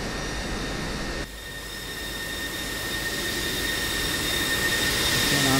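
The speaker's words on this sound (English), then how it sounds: "Okay, now I'm steering my aircraft all the way to the runway." A Pakistan Air Force F-16C Block 52 jet taxiing toward the runway, its engine giving a steady, loud whine with a high tonal hum that dips briefly and then swells gradually, with no voices over it.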